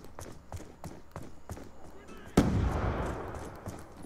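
A grenade blast in a Call of Duty: Black Ops 2 multiplayer match lands as one sudden loud boom partway through, its heavy rumble lingering after a stretch of quieter rhythmic game noise and faint voice chatter.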